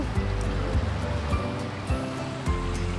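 A waterfall at a botanical garden pours steadily in a broad, rushing wash, loud and close, with periodic low surging thumps as the water churns.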